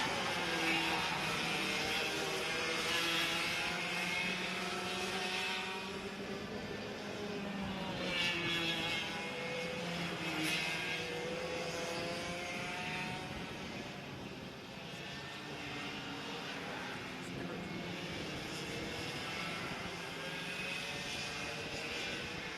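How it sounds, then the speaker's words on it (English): Micro and Mini ROK go-karts race at Sonoma, their small engines producing a continuous layered buzzing drone with overlapping pitch sweeps as the pack passes, heard at a moderate distance. "So our three leader karts, they're pulling away from the rest of the field."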